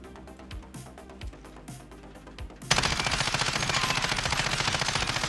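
Assault rifle fire in Call of Duty Warzone, a CR56 AMAX or RAM-7 fired in place: a few scattered shots, then a loud, steady automatic burst that runs unbroken to the end.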